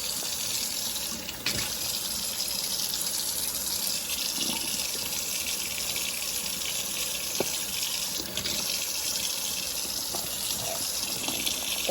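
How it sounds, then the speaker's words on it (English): Berries rinsed under a running kitchen tap, a steady loud hiss of water pouring into the sink throughout, with faint clicks and shifting splashes. "I'll take some of the berries out and wash them."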